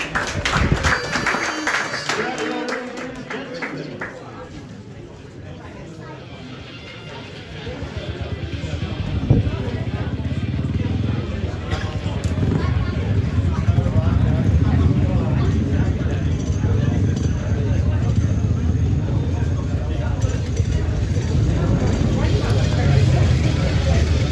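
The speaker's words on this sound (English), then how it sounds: "Just warming up the bikes now, Neil." Speedway motorcycles revving at a track as they warm up, a loud sustained engine roar that builds and stays heavy, with an announcer talking over it.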